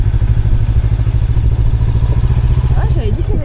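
A motorcycle rumbles steadily throughout a ride, loud and close, with a thudding, clattering engine drone and a faint voice near the end.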